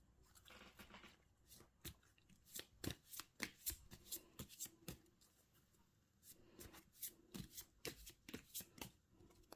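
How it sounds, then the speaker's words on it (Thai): Tarot cards are shuffled by hand in quick bursts of crisp riffling and flapping, close and clear, with a short pause midway before the rapid shuffling resumes. "ขอเป็นตัวแทนสับไพ่ตัดไพ่ให้คนเกิดวันอังคารค่ะ"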